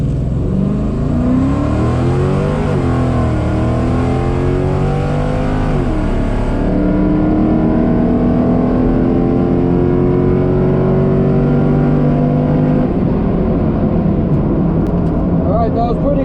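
A drag race car launches down the strip at Virginia Motorsports Park in manual mode, its engine loud and close, climbing through rising revs with distinct gear changes before easing off.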